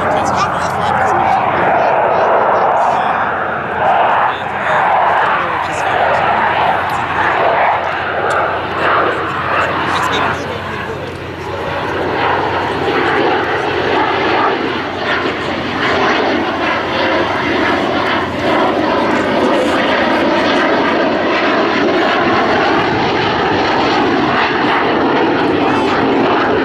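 A Finnish Air Force F-18 fighter jet performs a flying display at the ILA Berlin Air Show 2012, its engine roar loud and continuous throughout, swelling and shifting in pitch as it passes.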